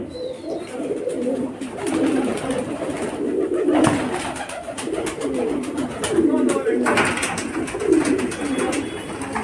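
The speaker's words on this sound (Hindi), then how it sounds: "देखिए कबूतर, कबूतर ही कबूतर।" A flock of pigeons kept by a pigeon fancier in Bhopal coo from a rooftop, low soft throaty calls repeating in overlapping bursts, moderately close, with a few sharp flutters and clicks.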